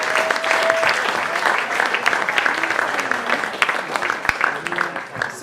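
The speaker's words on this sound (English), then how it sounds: "when we have a nice round of applause for the audience" Audience applause at a community coffee house concert, a steady round of clapping from a modest crowd with scattered voices mixed in, gradually thinning toward the end.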